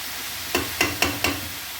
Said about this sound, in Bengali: একটুখানি আমি শাকটাকে নাড়িয়ে দিচ্ছি